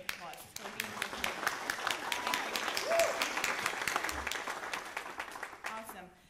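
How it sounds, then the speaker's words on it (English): An audience at a summer round table panel introduction breaks into enthusiastic applause that swells to a peak and then gradually fades, with a voice speaking over the clapping near the end. "Can we give them a round of applause for being here?"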